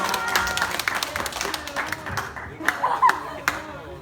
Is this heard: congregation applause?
yes